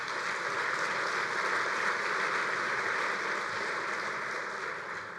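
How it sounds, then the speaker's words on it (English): Audience at a bowling convention's annual meeting giving a steady round of applause, a soft, continuous hiss of distant clapping for about five seconds that tapers off at the end. "Give the youth committee and our staff at the campus a round of applause."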